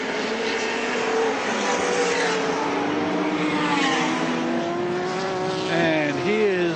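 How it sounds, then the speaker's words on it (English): Ford Falcon touring cars racing at Lakeside in 1984 roar past with loud, continuous engine drone, pitch rising and falling through gear changes and a sharp shift near the end, with a commentator talking over it. "I can see that Dick Johnson is really sliding that big Falcon around"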